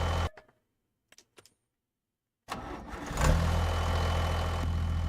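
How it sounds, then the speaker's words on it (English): Truck engine in the Farming Simulator 25 game cranking and starting after a few faint clicks, then settling into a loud, steady low idle with a brief rev as it catches, no talking. "Forgot how loud this stupid truck is."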